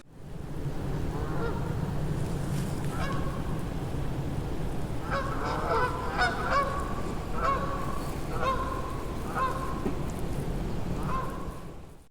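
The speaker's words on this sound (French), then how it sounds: "Ah, j'entends des oies." A flock of geese honks repeatedly from a distance, calls overlapping in irregular bursts over a steady low rumble of background noise.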